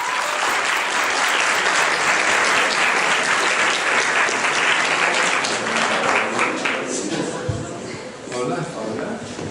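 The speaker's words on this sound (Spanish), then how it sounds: "Un fuerte aplauso, por favor." An audience applauds to welcome guest Luis Eduardo Motoa, with loud, dense clapping sustained throughout that thins slightly toward the end, with some voices mixed in.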